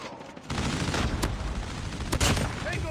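Rapid, dense AK117 automatic gunfire from a mobile shooter video game: continuous close, loud bursts with sharp cracks that start abruptly and keep firing without a break.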